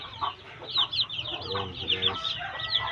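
Brooding hens on a small poultry farm cluck and murmur continuously nearby, a dense overlapping chorus of soft calls, while someone speaks briefly over them.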